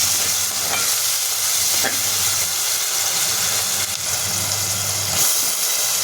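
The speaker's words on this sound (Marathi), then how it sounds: "मी पेस्ट टाकते आळं लसूण मिरची आणि कोथिंबीरची पेस्ट केलेली ती टाकून दिली आणि ते पण आपल्याला परतून घ्यायचे" Ginger, garlic, chili and coriander paste sautés in a pan, giving a loud, dense, steady sizzle and hiss with little variation.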